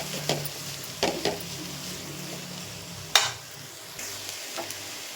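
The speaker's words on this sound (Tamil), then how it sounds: "எல்லா பக்கமும் நெய் படுற மாதிரி கிளறி விட்டுக்கலாம்." White pumpkin halwa cooking in ghee, stirred in a pan, giving a soft sizzle with a few scraping strokes and one sharper knock of the spoon against the pan.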